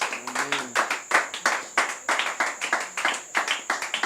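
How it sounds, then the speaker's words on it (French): A church congregation claps in a steady, rhythmic beat for Jesus, many hands together in a fairly loud, even pulse, with a brief sung or spoken tone near the start. "on acclame le Seigneur Jésus très très fort"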